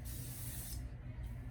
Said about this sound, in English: This is the AG Hair Care Firewall Argan Shine and Flat Iron Spray.